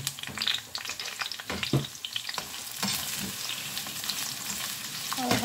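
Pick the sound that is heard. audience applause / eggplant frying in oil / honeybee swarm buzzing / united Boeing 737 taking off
eggplant frying in oil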